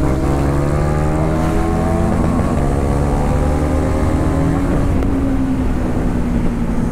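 KTM Duke 390 single-cylinder motorcycle engine revving hard during a street race, a loud, steady drone with rising and falling pitch sweeps as it accelerates and shifts, running throughout without talk.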